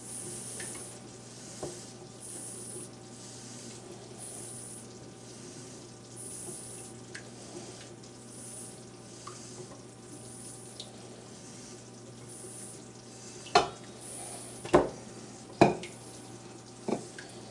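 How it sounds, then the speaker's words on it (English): Oil trickles slowly into a creamy lemon dressing emulsion being whisked. The pour is a faint, soft, continuous stream over quiet kitchen hiss, ending in a few sharp clinks near the end. "you slowly pour in the oil because you don't want to go too fast"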